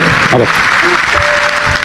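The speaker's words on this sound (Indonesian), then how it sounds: "Tepuk tangan yang udah kerja, mana yang udah kerja?" An audience bursts into brief, dense applause, a loud wash of clapping that fills the room, with a few voices faintly audible beneath it.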